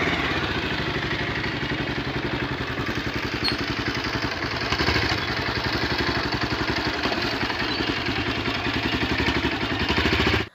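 A motorcycle rides a narrow road into a feared, reputedly haunted spot, its engine running steadily and close throughout with a constant rattling putter and no talk over it.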